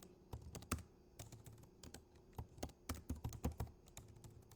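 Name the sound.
typing on a computer keyboard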